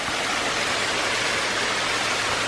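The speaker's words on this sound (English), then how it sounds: "The waterfall's actually at the start." A waterfall roars steadily, a loud, dense rush of falling water that fills the whole span with no break.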